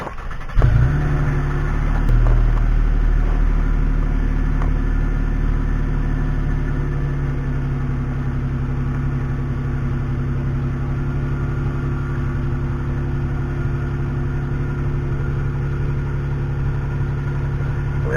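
A 2013 Toyota Sienna minivan with its stock exhaust starts cold and settles into a steady, fairly quiet idle, a low continuous hum holding evenly for the whole stretch with no talk.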